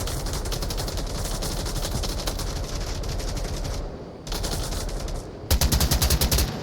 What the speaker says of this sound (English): Few shots landing near PG.